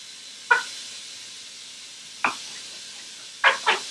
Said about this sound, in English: we take this serrated knife and just cut off the piece with the fin